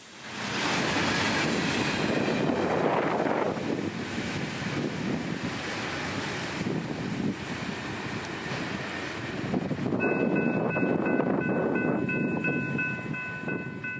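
Freight train 206 led by blue Grupo Mexico GE locomotives rolls through Fort Pierce, South Florida, a loud, continuous rumble and wheel roar close by, with wind buffeting the microphone and a steady tonal squeal or whine emerging toward the end.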